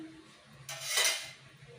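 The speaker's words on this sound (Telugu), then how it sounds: "స్టవ్ మీద కళాయి పెట్టి స్టవ్ అంటించుకొని కొద్దిగా ఆయిల్ పోసుకొని" A metal kadai set down on a home stove, with a short bright clatter of pan against burner and a brief pour of oil, close and alone in a quiet kitchen.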